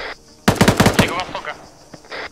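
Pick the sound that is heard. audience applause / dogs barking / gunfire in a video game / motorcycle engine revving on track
gunfire in a video game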